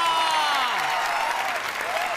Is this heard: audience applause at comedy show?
yes